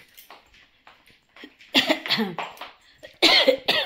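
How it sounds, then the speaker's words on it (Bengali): A person coughs several times in harsh bursts, growing louder toward the end, with quieter breaths and throat sounds between. "কাশি প্রচণ্ড হয়েছে"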